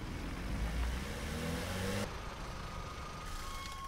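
A Hyundai car engine in a video game revs steadily at mid pitch, fairly loud and continuous, then drops to a lower idle-like hum halfway through, with no talking.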